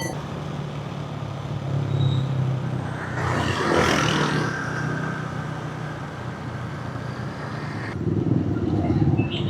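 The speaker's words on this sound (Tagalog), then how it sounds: "Ito na, pinaka-traffic na part." Road traffic flows along Sandoval Avenue in Pasig, with a steady car and engine drone, a louder vehicle passing in the middle, and voices talking over the rumble.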